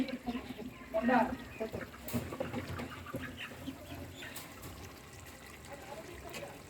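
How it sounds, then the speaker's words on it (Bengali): Chickens cluck softly close by, a few short bursts amid background chatter and a faint trickle of water. "আর এই যে মুরগিগুলো আসছে"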